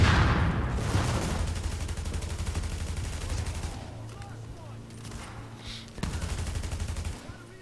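Shotguns boom in a cover-based shooter game, with a dense volley of rapid, loud blasts at the start, then scattered shots and a sharp report later, under a steady low hum.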